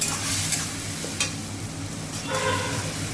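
Cumin and coriander spice mix being sautéed in a pan, a steady broadband sizzle with scraping stir strokes, a few sharper scrapes standing out, close and moderately loud with no talking.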